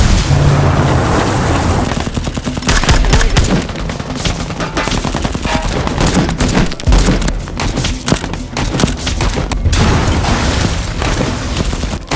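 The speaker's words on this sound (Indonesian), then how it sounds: "Detonator bom ditekan dan boom!" A bomb explosion and gunfire in a war movie about an ambush on an ISIS convoy, with a loud continuous barrage of booms, blasts and rapid shots lasting throughout, dense and close.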